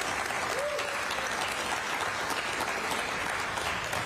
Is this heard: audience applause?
yes